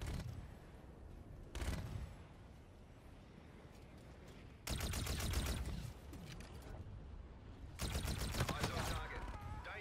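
Gunfire in a video game: three loud bursts of rapid automatic fire, each lasting about a second or two, separated by quieter stretches of background game noise.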